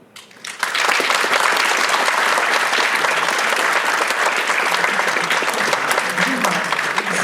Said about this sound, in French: je vous demanderai de bien vouloir les applaudir chaleureusement